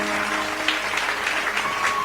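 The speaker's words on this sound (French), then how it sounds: "Acclame très fort pour Jésus." A church congregation claps for Jesus during a sermon, with a dense, steady wash of applause throughout and a faint hum beneath it.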